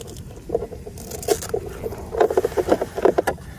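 A UL-19 RC boat running on 100C batteries, heard up close as a short burst of rapid patter and scraping splashes with a buzzing hum, no voices.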